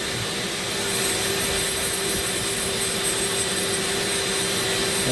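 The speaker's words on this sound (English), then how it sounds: "And this is a downdraft right here. It sucks the nasties into my" Shop vacuum drawing air through a downdraft sanding table in a carving workshop, a steady close whooshing roar with a faint constant hum running throughout without pause.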